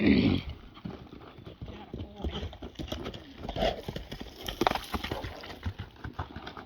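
Hooves of a horse clip-clop during saddling, with irregular, fairly close thuds and shuffling that run throughout while people chat nearby.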